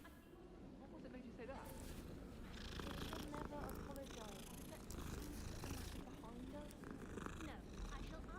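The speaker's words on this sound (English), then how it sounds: "Hey, there's a cat." A cat purrs in the Hogwarts Legacy video game, a steady low rumbling purr lasting throughout, with game audio and a person talking over it.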